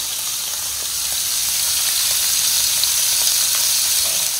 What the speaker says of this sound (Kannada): 3-4 ಸ್ಟೆಪ್ಪು ಹಾಕಿ ಈ ಥರ ಫ್ರೈ ಆಗಲಿಕ್ಕೆ ಬಿಡಬೇಕು